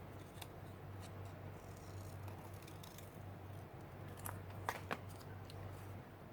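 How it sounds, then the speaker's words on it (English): Scissors cutting painted paper for an art journal page, soft snipping and crisp paper rustles heard faintly over a steady low hum, with a couple of sharper cuts near the end. "And this one I'm going to cut smaller now."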